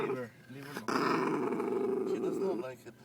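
A Pomeranian dog growls steadily and close by for a few seconds, with a low rumbling snarl that continues under brief talk.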